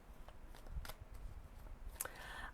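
Advice cards being shuffled in a deck, with soft papery riffles and brisk flicks near the mic, alone with no talk.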